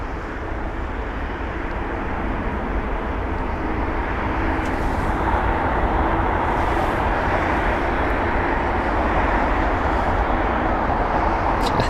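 A Swiss Airbus A220 passes at London Heathrow with a broad, steady engine roar that stays loud and sustained, swelling slightly midway, with no talking.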